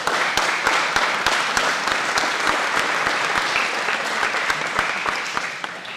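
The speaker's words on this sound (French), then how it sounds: "on peut les applaudir" An indoor audience applauds steadily throughout, a thick wash of clapping punctuated by sharp, evenly spaced louder claps standing out near the front.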